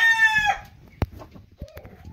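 A purebred Asil hen gives a loud, close crowing-like call that breaks off, followed by a few short clucks and small knocks, with no talking.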